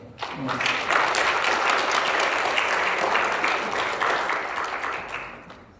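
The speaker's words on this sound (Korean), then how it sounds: "박수도 하나 있습니다." A church congregation at a Sunday service applauds to welcome newcomers, dense sustained clapping from many hands filling the room for several seconds before easing off, with a voice briefly heard over it.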